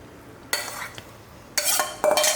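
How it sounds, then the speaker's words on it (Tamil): Shredded raw mango thokku being stirred and scraped in a pan, with no sizzle; three short bursts of spoon-on-metal scraping separated by quiet gaps, and no talking. "இப்போ இந்த மாங்காய் தொக்கை எடுத்து இதில் போட்டுக்கலாம்"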